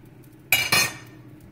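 A lid going onto a pressure cooker holding Jamaican stew peas, heard as two quick close metallic clanks in a row, followed by faint kitchen room tone.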